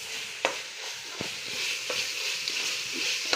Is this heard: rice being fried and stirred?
yes